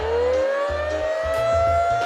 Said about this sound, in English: the siren goes off